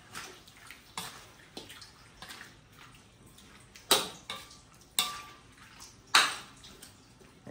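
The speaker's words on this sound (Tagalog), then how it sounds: "maglalagay tayo ng konting tubig" Water added a little at a time to a cooking pot, heard as a series of short splashes and pours, with several sharper clinks of metal, fairly quiet and close, with no talking.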